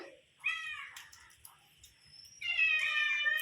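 A cat drawn by the smell of fish meows twice, a drawn-out cry at the start and a louder, longer one near the end, with quiet shuffling noises between.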